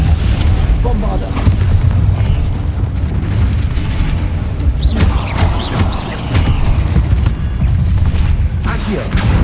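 Spell explosions, booms and blasts from a Harry Potter video game fill the whole stretch, a dense, loud wash of repeated impacts and magical bursts with rumbling low end and scattered crackles, without clear gaps between them.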